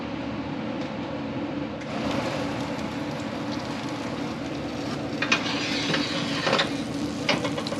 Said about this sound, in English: Let them sizzle.